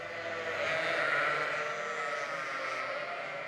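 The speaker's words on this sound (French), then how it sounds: "Plus de 420 moutons à s'occuper." A large flock of over 420 sheep on a family farm in Auvergne, France, bleats continuously in an overlapping chorus, loud and close, with no talking.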